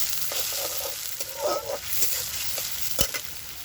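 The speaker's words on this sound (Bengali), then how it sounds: "এগুলোকে একটু ভালো করে ভেজে তারপরে বেগুনটা ছেড়ে দেবো।" Fish oil frying in a wok with stirring, a steady close sizzle with light scraping and clatter of a spatula, one sharp knock near the end, no talk.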